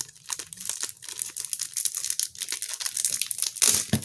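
Crinkly plastic wrappers of trading card packs being torn and crumpled open by hand, a steady run of close, loud crackling and ripping with a sharper tear near the end.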